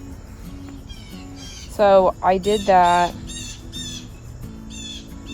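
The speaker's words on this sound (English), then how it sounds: "Birds are screaming today." Garden birds call loudly on a summer morning, a sudden harsh, rapid burst of squawking notes close by, with softer chirps scattered before and after, while a person talks over them.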